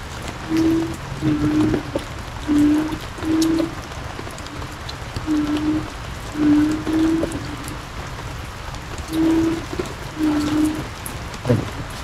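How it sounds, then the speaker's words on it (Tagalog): Rain falls in a steady, hissing wash that fills the background, with a series of short humming tones recurring over it; loud and continuous with no talking. "Basang-basa na po ito sa ulan mga boss."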